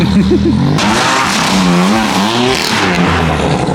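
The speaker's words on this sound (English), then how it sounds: "The two loudest cars went first" Loud car engines, including a BMW M3, roar and rev close by while tires squeal in long wavering screeches during street drifting, overlapping into a harsh, continuous din.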